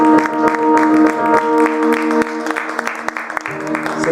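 A church congregation applauding and cheering: dense, continuous clapping from a crowd, with voices shouting and a musical tone sustained underneath, the applause thinning slightly toward the end.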